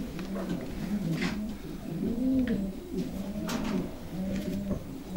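Pigeon cock cooing in a loft, a series of soft low coos rising and falling near the microphone over about five seconds, with faint rustling in the background.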